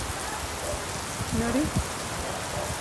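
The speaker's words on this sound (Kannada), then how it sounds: "ಎಷ್ಟೊಂದು ಜೋರಾಗಿ ಮಳೆ ಬರ್ತೈತೆ ನೋಡಿ" Heavy rain pours down in Bangalore in a steady, dense hiss of drops on surfaces, while a person speaks briefly over the downpour.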